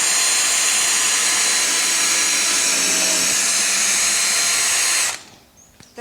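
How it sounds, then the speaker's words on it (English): A power drill runs loud and steady for about five seconds, whining continuously as it drills a hole through the centre of a compost bin lid, then stops abruptly, leaving near silence. "I'm going to simply drill a hole through the centre"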